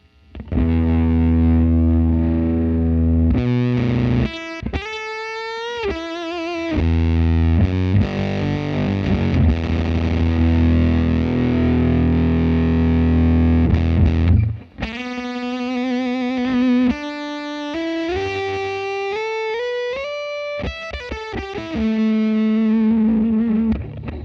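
An electric guitar runs through a gated fuzz effects pedal, playing buzzy, heavily distorted riffs down to the lowest notes, with abrupt chopped stops between phrases and sustained thick low tones, loud and alone.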